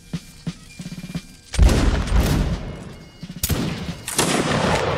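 Musket volleys in the video game Mount & Blade: Napoleonic Wars, several sharp cracking shots and ragged rippling volleys with booming tails, some close and loud, others more distant.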